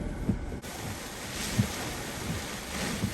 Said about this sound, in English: here comes the wind. It's about to get a little crazy